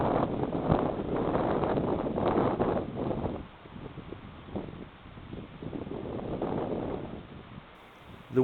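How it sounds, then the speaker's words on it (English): Wind blows outdoors during an air rifle hunt, buffeting the microphone in a steady rushing roar that swells and eases, with no talk. "The wind is really starting to pick up"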